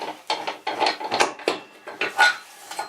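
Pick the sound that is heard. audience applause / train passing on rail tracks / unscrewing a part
unscrewing a part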